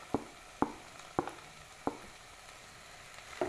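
Okra, onion and curry leaves frying in a pan give a soft, steady sizzle, broken by a few sharp taps as they are stirred, close and fairly quiet, with no talking.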